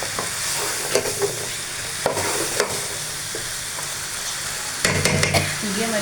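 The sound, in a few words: ridge gourd frying in a pan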